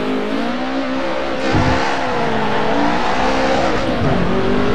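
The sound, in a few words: BMW M3 E30 Group A race car in Assetto Corsa video game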